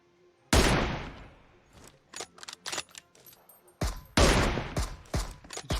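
Gunfire in the shooter game PUBG Mobile: two loud close bursts of rapid shots, each trailing into scattered quieter single cracks, with a brief lull between them.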